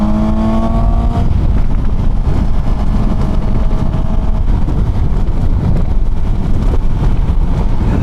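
A Suzuki GSX-S750 motorcycle ridden on the road, its engine droning loud and steady under heavy wind rush, with a brief rising rev at the start.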